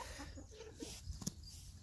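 A young rooster and hens cluck softly at close range, with a few short, scattered clucks and one sharper squawk over a faint background.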